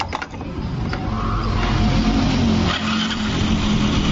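A Yamaha Fino 125 scooter engine idles steadily after a valve adjustment, a close, loud continuous motor drone running throughout without any voices.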